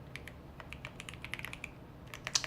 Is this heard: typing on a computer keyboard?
yes